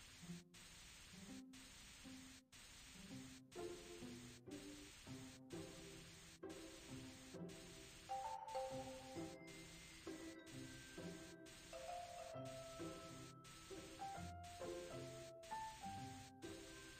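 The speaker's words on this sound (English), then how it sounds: "Spray paint the doghouse with the pretty color." Rhythmic bursts of spray-can hissing from a children's game, spray-painting a doghouse, repeat steadily over light, bouncy game music, with brief silent gaps between them.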